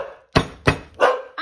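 A dog named Megs barks in a kitchen, three sharp close barks in quick succession, with a fourth starting at the end.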